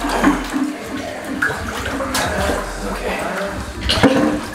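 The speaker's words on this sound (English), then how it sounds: "we got water going down the drain now." Floodwater gurgles and rushes down a basement drain after a flood, a loud, steady watery flow close by, with people talking over it.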